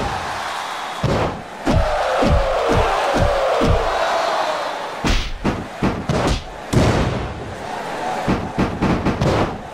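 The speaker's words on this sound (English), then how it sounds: "Listen to this crowd." A wrestling arena crowd at a WWE match roars loudly, joined by a run of rhythmic heavy thuds and stomps, then scattered sharp slams and bursts of cheering.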